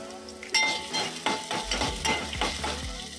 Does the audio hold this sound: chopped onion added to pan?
yes